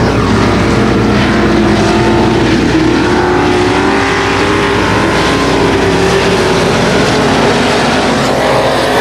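Dirt track race cars roar side by side down the backstretch at a night race, a loud, continuous engine drone with shifting pitch as the pack runs past, no voices over it.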